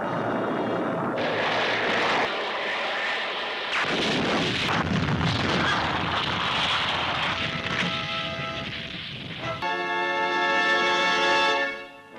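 Missiles fire and explode in a Gamera vs Guiron monster film, a dense run of loud booms, blasts and roaring rumble that fills the whole stretch with no talking.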